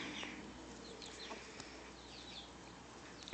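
Soft, scattered clucking from a rooster, faint and intermittent over a low steady background hum.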